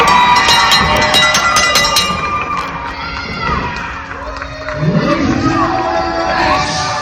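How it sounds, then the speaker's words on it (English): A wrestling crowd at a Spartan Pro Wrestling show roars loudly, shouting, cheering and screaming in a dense, sustained swell that dips briefly and then builds again. "This crowd is getting loud."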